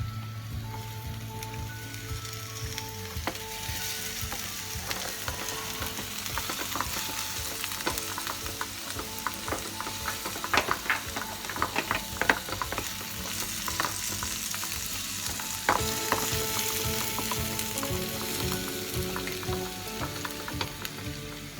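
Tomatoes fry with garlic and ginger in a pan, a steady crackling sizzle with frequent small pops and occasional stirring scrapes throughout.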